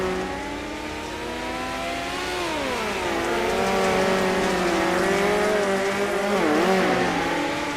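Race cars racing at the Chili Bowl, several engines droning and shifting pitch together as they roar around the track, steady and fairly loud with rising and falling revs.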